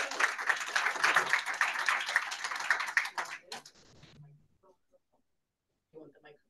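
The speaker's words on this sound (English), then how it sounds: "Give him a round of applause." Audience applause at a medical research symposium panel, a loud burst of many hands clapping for about three seconds that tapers off, followed by near silence and then brief talking.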